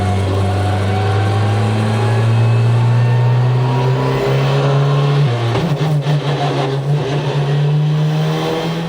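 Škoda Fabia rally car engine revving hard at close range, a loud steady roar that climbs in pitch, drops briefly at a gear change and then rises again.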